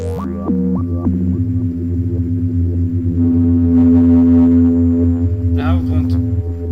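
A Behringer Neutron synthesizer's self-oscillating filter produces a steady, droning tone that hums on and on, with pitch steps early and a brief noisy burst near the end.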